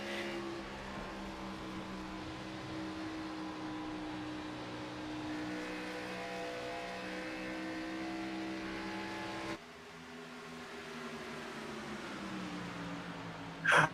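Race cars on an oval track, engines droning in layered sustained tones at a distance, quiet and continuous, shifting to a different pitch pattern near the end before a short loud burst.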